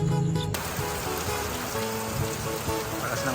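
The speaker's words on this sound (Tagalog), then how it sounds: "Lakas ng ulan kay Ilocano kaya masarap maligo sa ulan." Heavy rain pouring steadily in the mountains of Ilocos, a dense continuous hiss of drops on surfaces, close and even, after a brief different sound at the very start.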